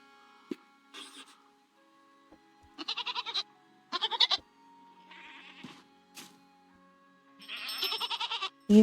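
A goat bleats repeatedly in the video game REKA, several wavering, quavering calls in bursts separated by short pauses, fairly close and clear over quiet game ambience.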